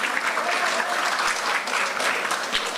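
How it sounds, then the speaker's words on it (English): Sustained applause from the crowd at a devotional group competition, a thick even wash of clapping held at a steady level throughout, with no talking. "Give them a lusty round of applause again"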